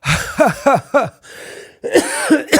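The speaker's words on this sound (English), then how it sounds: "I'm now actually genuinely coughing." Several quick harsh coughs in a row, a short pause with breathing, then another burst of coughing, close and fairly loud.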